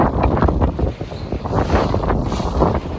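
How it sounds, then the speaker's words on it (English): Strong gusting wind of fifty-plus miles an hour on a farm, battering the microphone in a loud, continuous rumbling roar that swells and dips, with no voices. "50-some odd mile an hour winds"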